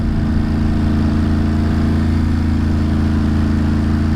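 A motorcycle cruising along a road through Harriman Park, heard as a loud, steady engine drone with continuous rumble and wind noise throughout, no talking.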